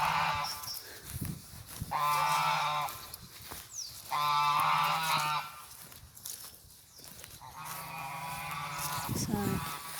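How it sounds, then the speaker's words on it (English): Geese at a pond honk loudly in long repeated bursts, each call lasting about a second, close by and dominating the scene with brief pauses between. "the geese are too noisy"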